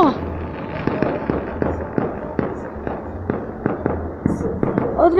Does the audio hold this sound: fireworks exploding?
yes